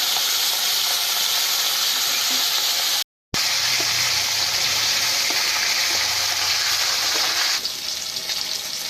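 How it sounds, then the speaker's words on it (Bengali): Fish, a Bilati fish variety, frying in hot oil in a village kitchen, giving a loud, steady hiss and sizzle that runs continuously with a brief cutout near the middle and a slight drop toward the end. "মাছটা ভাজার সময় তেলটা খুব ভালো করে গরম করে নিতে হবে"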